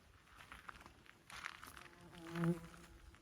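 A small bee buzzes faintly around the camera in a garden with poppies and a rhododendron in bloom, drifting nearer and growing louder toward the end, with no voices.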